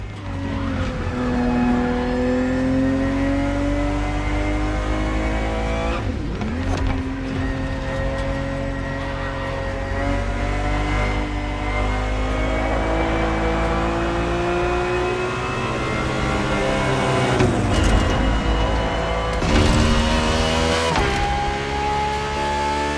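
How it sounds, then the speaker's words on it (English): A 1970s Ferrari 365 GTB4 roars through a lap in The Crew Motorfest, its engine droning loud and close, pitch rising with each gear and dropping at every shift, with a few sharper rev swells and no talk. "The Ferrari 365 GTB4 is the perfect vehicle for you to experience Ferrari racing as it felt back in the 70s"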